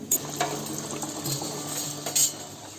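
Shegaon kachori and green chillies frying in hot oil, a soft steady bubbling sizzle with a few sharper pops and clicks, close and fairly quiet, with no talk.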